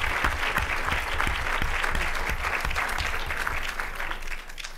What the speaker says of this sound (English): So I'm sure Bobby and Ken appreciate that applause